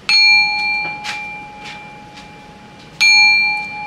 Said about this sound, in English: So this is our dinner bell.